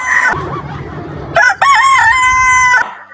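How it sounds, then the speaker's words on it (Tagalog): A rooster crows loudly and close by, a long ringing call that swells and holds before trailing off, preceded by a brief squawk. "Tumilaok na naman yung manok."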